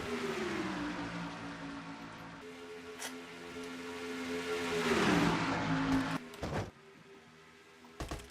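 Stock cars in a racing video game circle Charlotte on a pace lap, giving a sustained close engine drone with a pitch shift as they pass through a turn, then cutting out to brief bursts and near silence.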